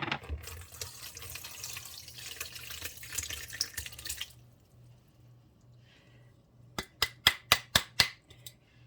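Lilac flower tea poured from a container into a jar, a steady splashing stream lasting about four seconds, then quiet, then a quick run of sharp clinks and knocks close by.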